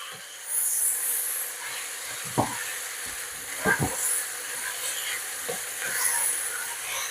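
Hot dogs and onions stirred in a hot frying pan, with a steady sizzle and a few sharp scraping clicks of the utensil against the pan.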